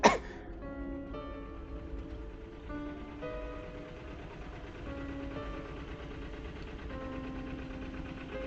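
A steady mechanical engine drones and hums continuously with a slight rhythmic vibration, starting with a brief loud onset.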